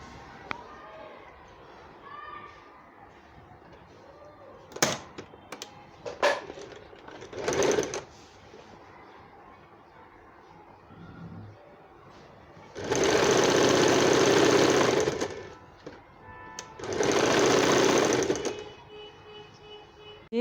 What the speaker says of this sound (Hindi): ये सीधे हिस्से को ऐसे सीधा रखते हुए ये इस तरफ सिलाई लगाऊंगी 1/2 इंच की दूरी पर